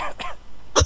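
A single short cough or throat-clear at the end of a brief stretch of murmuring voices.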